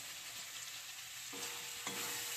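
Mutton liver, fat and chillies are sautéed in hot oil, giving a quiet, steady sizzle with a few spatula scrapes toward the end.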